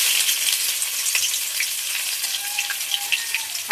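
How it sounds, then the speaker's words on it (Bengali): Chopped onion frying in hot oil, a constant close crackling sizzle with small pops and spatters throughout, no talk. "এবার এর মধ্যে পেঁয়াজ কুচি দিয়ে দিই"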